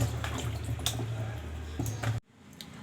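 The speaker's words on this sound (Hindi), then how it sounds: "इसे 2-3 पानी से धुल लेना है खूब अच्छे से" Potatoes are washed by hand in a bowl of water, with steady sloshing and splashing that stops abruptly near the end, leaving a quiet room.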